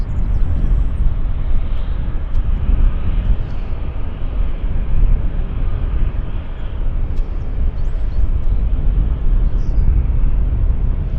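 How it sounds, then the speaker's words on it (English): A British Airways airliner taxis into a horseshoe gate at Vancouver Airport, its steady, loud engine rumble and broad roar continuing without a break, with no clear talk over it. "here we've got the British Airways pulling into the gate, pulling into the horseshoe"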